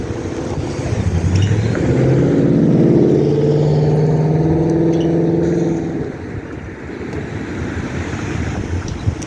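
A parked car's engine idles on a cold night with its windows cracked and the heater on, a steady low rumble that holds fairly loud for about six seconds before easing off into quieter broadband noise.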